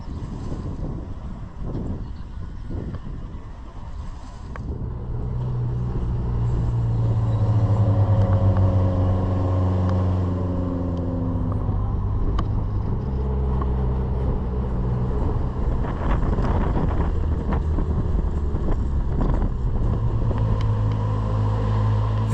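An open-top Maruti Gypsy jeep drives along the coast of Gozo, Malta, arriving at Ramla Bay, with a steady engine drone and heavy wind buffeting the microphone, no talk.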